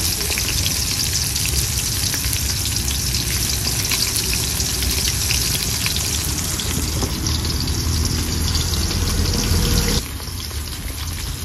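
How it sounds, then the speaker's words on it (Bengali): Fish sizzling and frying steadily in hot oil in a pan, a loud continuous crackle with no talk, easing slightly toward the end. "মাছগুলো ভাজা হোক"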